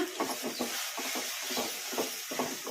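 A spoon scrapes and stirs cashew masala through hot tempering in a pan, giving soft rhythmic strokes roughly every half second over a faint steady sizzle, close and quiet with no talking.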